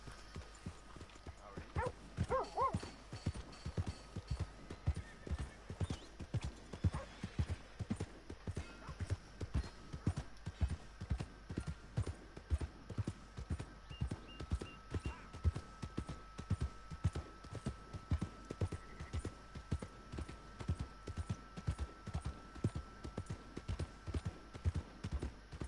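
Horse hooves clip-clop steadily in Red Dead Redemption 2, an even, rhythmic trot of soft thuds repeating for the whole stretch, fairly quiet and alone without talk.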